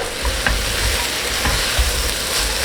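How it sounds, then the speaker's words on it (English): Fennel and celery fry in a soup pot while being stirred, a steady loud sizzle with scattered scraping knocks of the spoon throughout. "We're gonna mix this and let it cook for 2 to 3 minutes."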